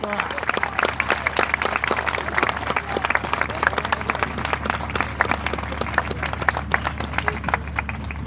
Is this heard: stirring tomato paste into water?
no